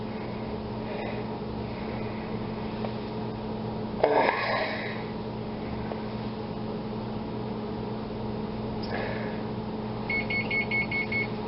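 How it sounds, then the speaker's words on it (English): A short series of electronic beeps from an oven signalling it has preheated sounds near the end over a steady background hum, with a few faint clatters earlier. "that sound you hear is the oven letting me know that it has now been preheated to"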